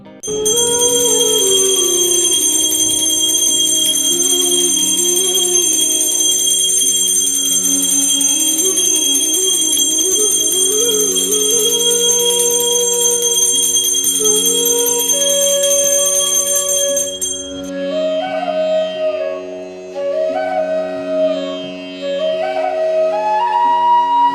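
A temple bell rings continuously during aarti with a sustained, shimmering metallic tone while a melodic instrumental or chant line plays underneath, fairly loud throughout.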